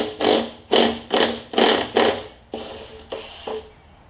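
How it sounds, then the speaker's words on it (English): An impact wrench with a 15/16 inch socket hammers at the flywheel nut of a Craftsman Briggs push mower in five loud, close bursts, followed by a few quieter, shorter rattling bursts as the nut comes free. "Grab 15/16 inch. Socket with my impact, and we'll just take this bad boy off"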